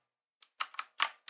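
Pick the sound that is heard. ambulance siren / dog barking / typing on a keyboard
typing on a keyboard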